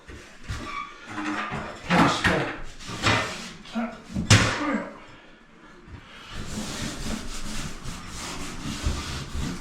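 A clean sponge wipes dust off a bathroom surface before tiling, giving repeated rubbing and scraping strokes, with someone talking over much of it.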